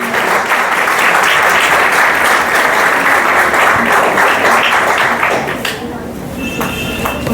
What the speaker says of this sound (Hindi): आप सभी की जोरदार तालियां होनी चाहिए